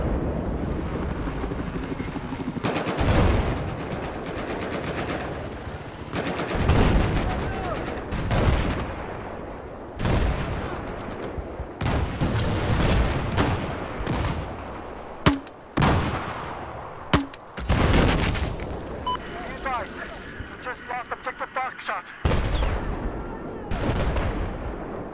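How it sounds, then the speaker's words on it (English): A grenade launcher fires in Battlefield 4 amid sharp gunfire bursts and explosions, with a helicopter droning through a busy battle soundscape. "This grenade launcher is fucking OP as shit."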